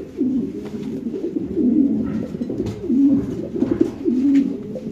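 Fancy pigeons, including Mundian birds, coo in low, rolling repeated calls, close by and fairly loud, over a faint background murmur.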